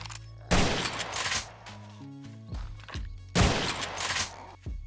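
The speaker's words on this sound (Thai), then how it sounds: "อันนี้ผมจะลองยิง จะยิงให้หมดได้มันจะรีโหลดไหม" Bursts of modded 5.56 rifle fire in the survival game 7 Days to Die, loud and close, with several rapid volleys separated by short pauses and some thumping footsteps in between.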